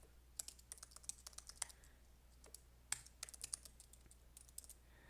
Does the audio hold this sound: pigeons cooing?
no